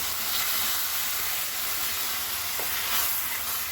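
Ground cherry tomatoes for red pasta sizzle steadily in a hot pan while being stirred, a continuous close hiss with faint scraping throughout.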